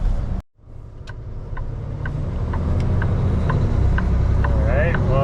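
A new 2025 Kenworth W990 truck hauling a full load of trench backfill pulls away with a steady, loud engine drone that builds as it climbs through the gears, with a brief dropout near the start and light clicks over the rumble.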